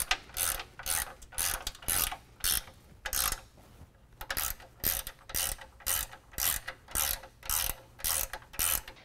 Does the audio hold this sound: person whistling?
no